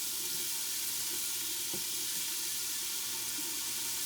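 Red pepper sautéing in hot oil for chili gives a steady, hissing sizzle with faint crackles throughout, moderately quiet and close, with no talking.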